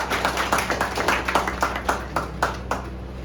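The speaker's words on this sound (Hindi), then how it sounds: "असली चेक इसमें एक बार ताली हो जाए किरण जी के लिए" Audience applause at an office annual function, a steady run of hand claps from a crowd lasting the whole stretch, moderately loud and close with no talking.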